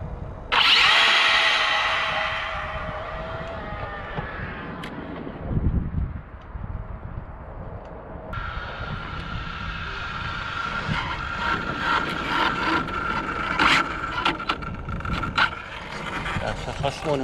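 An ARRMA Infraction V2 RC car at top speed lets out a high electric whine that surges loudly early on, fades, and then returns at a steady buzz, with people talking throughout.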